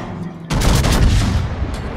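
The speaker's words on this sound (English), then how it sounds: "Let's see if I can do one more salvo." A heavy battleship gun salvo in World of Warships erupts suddenly after a quiet moment, a loud booming blast that rolls on with rumbling reverberation.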